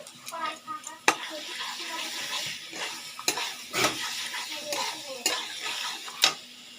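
Chicken and masala frying in a pan, soft sizzle broken by repeated sharp scrapes and clinks of a spoon stirring against the metal, irregular and close.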